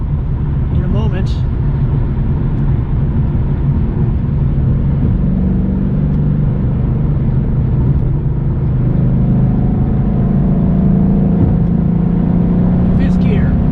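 A 2012 Ford Mustang GT cruises on the highway in fifth gear, a loud, steady low engine and road rumble that swells slightly as it pulls around another car, with someone talking over it.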